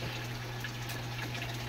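Water pouring into a pot of pancit as it cooks, a steady gushing flow close by with a constant low hum underneath, heard alone for under two seconds.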